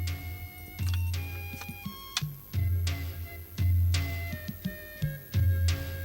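A traditional wooden loom worked by Rabha women weaving garments, giving repeated wooden knocks and clacks in an uneven rhythm with short pauses, close and fairly loud, with no talking.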